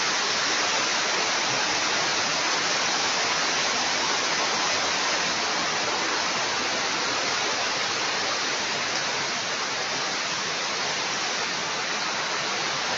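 Waterfall at Sungai Gabai, on its upper tier, pours in a steady, dense broadband roar that stays loud and unbroken throughout, with no voices over it.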